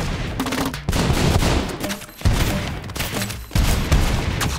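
Mortar bomb explosions rattle through a ROUNDS video game match, loud bursts of rapid blasts and booms arriving in dense clusters with short lulls between them.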